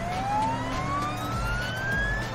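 Cartoon fire engine siren wailing in a steady rising tone, loud and continuous with no talk over it, as Frank the fire truck arrives.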